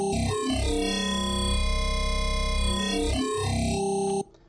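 A bright, buzzy wavetable synthesizer tone from Harmor Spectral held for about four seconds, its harmonics sweeping and shifting in timbre before it abruptly cuts off.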